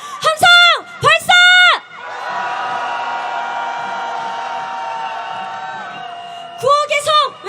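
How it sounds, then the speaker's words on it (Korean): A large protest crowd at a candlelight march lets out a long, loud roar of shouting and cheering that swells and holds for several seconds, framed before and after by a leader's amplified chanting voice. "분노를 담은 힘찬 함성 함께 발사해보겠습니다."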